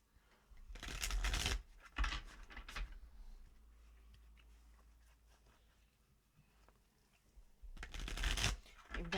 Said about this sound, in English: my shuffling has turned to rubbish